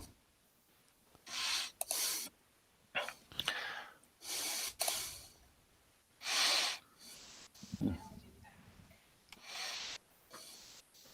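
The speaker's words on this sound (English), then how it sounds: "Like your breathing is still super loud." Heavy breaths are pushed right into a sensitive microphone held close to the face, coming as loud, rushing bursts with short pauses between them and occasional snort-like huffs.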